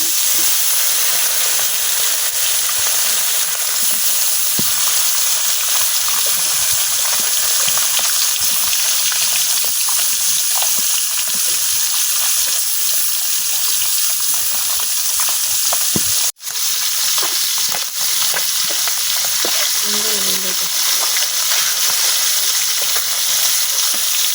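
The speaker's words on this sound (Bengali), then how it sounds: "তেল কিন্তু গরম হয়ে গেছে, আমি তেলের মধ্যে মাছ ঢেলে দিচ্ছি।" Taki fish fries in hot oil in a pan with a steady, loud, broad sizzle that holds without a break, with occasional faint bubbling pops and a brief clatter near the middle.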